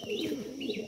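Sirazi pigeons kept at a home loft give soft, close cooing calls, two rising-falling coos with low throaty murmuring beneath, with no talk.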